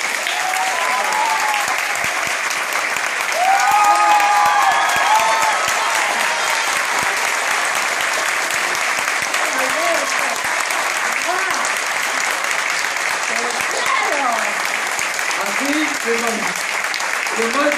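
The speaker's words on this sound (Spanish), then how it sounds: "Quiero un fuerte aplauso." A theater audience gives loud, continuous applause for a guest, steady dense clapping with cheers and voices calling out above it, swelling slightly after a few seconds and holding strong to the end.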